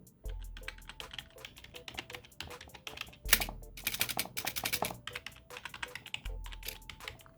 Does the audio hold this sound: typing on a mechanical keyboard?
yes